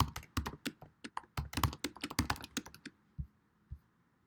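Typing code on a computer keyboard: a rapid run of crisp, close keystrokes and heavier taps, trailing off into a few isolated thunks near the end.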